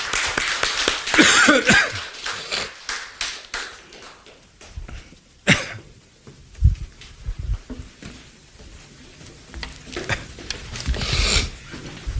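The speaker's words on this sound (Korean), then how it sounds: "하나님께 영광의 박수 올려드리겠습니다." A Korean church congregation claps during Sunday worship, a loose burst of hand claps that thins out into scattered individual claps and small taps, with a louder flurry returning toward the end.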